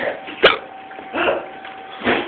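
A single sharp hiccup stands out near the start, close and brief, among soft indistinct voices and murmuring from a birthday gathering.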